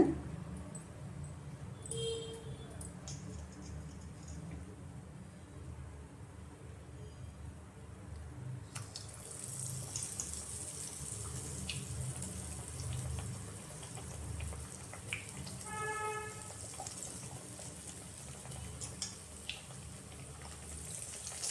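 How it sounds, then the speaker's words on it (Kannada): Bajji batter fritters are dropped into hot oil and fry with a steady, fairly quiet sizzle and crackle that brightens partway through, continuing throughout with faint background noise. "ಎಣ್ಣೆ ಕಾದಿದೆ ಇವಾಗ ಬಿಡೋಣ"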